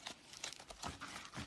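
Playing cards shuffled by hand during a classroom game, a quick run of crisp papery riffling and crinkling bursts, close and moderately loud with no talk.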